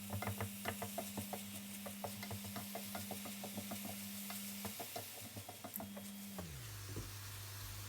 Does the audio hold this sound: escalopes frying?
yes